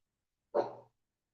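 A single short dog bark, fairly close and clear, in otherwise quiet surroundings.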